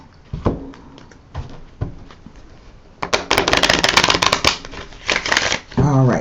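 A deck of tarot cards is shuffled in several bursts, starting with a few soft separate riffles and then a long, loud run of rapid flapping card riffles, close up.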